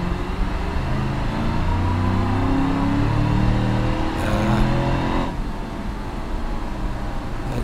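A Gavril D-Series truck engine in BeamNG.drive roars steadily and loud, its revving tone rising and shifting before the sound thins out toward the end, with no talking.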